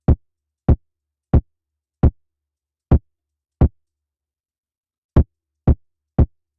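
Nine punchy kick drum hits from a beat built in Ableton Live 12, heavily compressed and saturated with analog clipping, each a sharp loud transient with a quick decay, in an uneven pattern with a gap before the last three.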